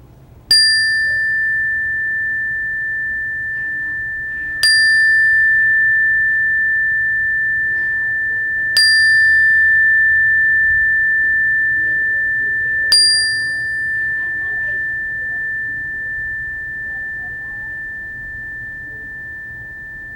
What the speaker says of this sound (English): when I ring the bell